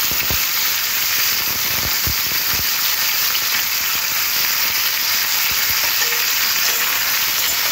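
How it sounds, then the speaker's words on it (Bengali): Potatoes and beetroot fry in oil with a loud, steady sizzle close by, with a few sharp clicks from stirring near the start. "এবার তেলের মধ্যে দিয়ে আলু আর বিটটা ভাজা ভাজা করে নেব।"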